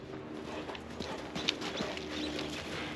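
Small hooves patter quickly and steadily across hard ground as piglets scurry about, a soft, continuous clatter at moderate distance.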